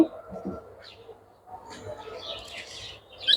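Caged birds in a bird house giving faint coos and scattered soft chirps, with quiet gaps between calls and a brief louder chirp near the end.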